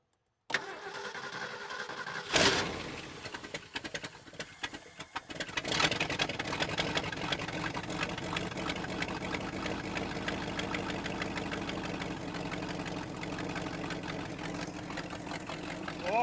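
Engine of a neglected 1968 Ford F350 Bumpside pickup cranking and catching, then settling into a rough, steady idle that runs on close by, with no talk.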